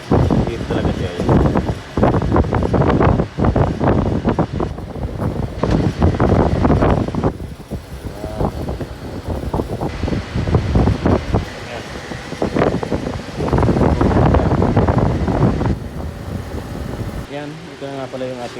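A Toyota Rush with a 2NR-VE engine running in a repair shop after a timing chain overhaul, its steady mechanical drone continuing throughout while someone talks over it.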